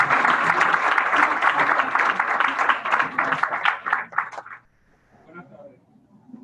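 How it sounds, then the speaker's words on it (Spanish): An audience bursts into dense, loud applause that carries on steadily for about four seconds, then quickly fades to a few scattered claps and quiet murmuring in the room. "Un aplauso, por favor."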